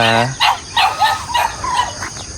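Farm dogs bark in a series of about five sharp barks, fairly close and clear, with short gaps between them against a quiet outdoor background.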